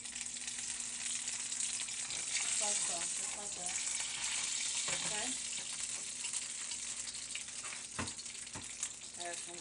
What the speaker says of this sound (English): Then we're going to add some butter.